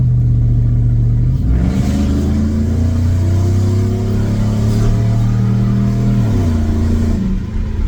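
A Ford F-150 5.0 pickup engine with an MBRP exhaust revs steadily, pitch stepping up and holding, then dropping back, a loud, deep rumble with no talking.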